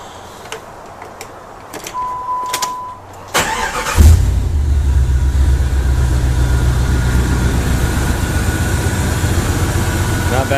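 A Jeep ZJ that had been rolled, with fresh fluids in the motor and transmission, is started after a few clicks and a brief tone. It catches with a loud burst and then settles into a steady, rumbling idle close by.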